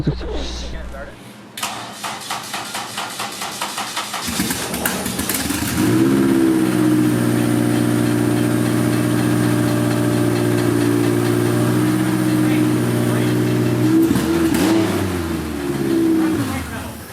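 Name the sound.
swapped car engine starting and revving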